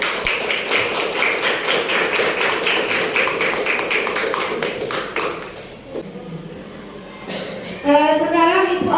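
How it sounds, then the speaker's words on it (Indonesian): Students in a classroom break into applause, a dense patter of many hands clapping for several seconds before fading, then a voice rises above the room. "mari kita beri aplaus untuk kalian sendiri"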